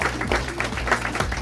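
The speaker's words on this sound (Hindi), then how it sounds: "तालियां के सम्मान।" Applause at a formal gathering honouring a railway union general secretary, a steady mass of clapping that fills the whole stretch, with some voices mixed underneath.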